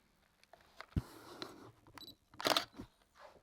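A camera shutter clicks a few times at close range during work on a Suzuki DRZ400SM motorcycle restoration, with small handling rustles and taps between the sharp clicks.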